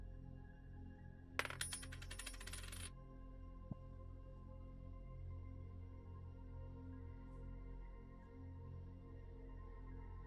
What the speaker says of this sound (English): A coin. Or a pin dropping.